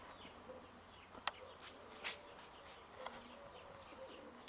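Soft, distant pigeon calls with a couple of sharp chirps in an outdoor setting, faint cooing amid light background noise.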